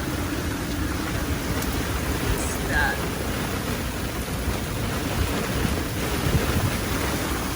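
Heavy rain and gusting wind from Hurricane Erin roar steadily outdoors, a dense continuous wash of noise, with a brief spoken remark partway through.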